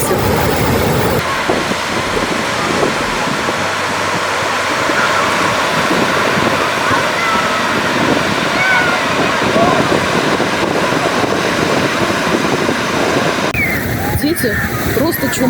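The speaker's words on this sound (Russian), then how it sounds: "Волна пришла." An ocean wave surges up a small black-sand beach on Tenerife, a loud, sustained rushing wash of surf that fills the whole stretch, roughened by wind buffeting the microphone.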